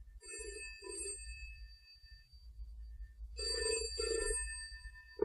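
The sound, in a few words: telephone bell ringing, from an audiobook drama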